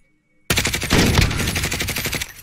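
Sudden loud automatic gunfire in Call of Duty Warzone breaks the silence, a rapid close burst of rounds lasting about two seconds.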